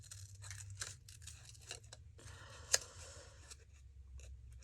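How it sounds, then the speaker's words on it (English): Small craft scissors fussy-cutting a little shape out of a paper book page: a series of short, crisp, close snips at an irregular pace, with one sharper click partway through, and no talk. "Yes, I know, I'm using my little scissors."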